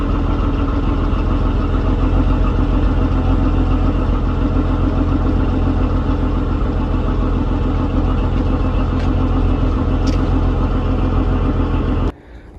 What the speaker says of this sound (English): Cold start. Hasn't been started in 5 days.